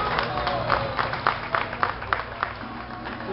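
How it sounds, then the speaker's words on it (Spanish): Audience applause at a majarblanco dessert-stirring contest: a crowd claps steadily for a few seconds with scattered louder bursts, and voices mingle underneath. "Un aplauso para todos."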